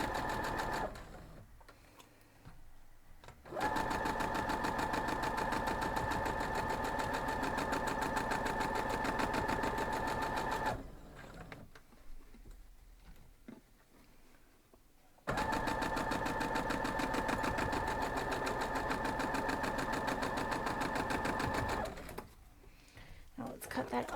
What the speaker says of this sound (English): I'm going to start sewing these